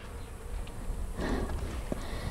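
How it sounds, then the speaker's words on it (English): A bee buzzing close by outdoors near a pond, a steady droning hum that grows a little louder partway through. "You can pet a bee."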